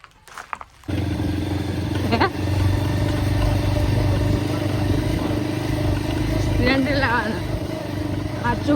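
A motorcycle engine starts up after a brief quiet moment and then runs at a steady, loud, droning idle. Voices talk faintly underneath.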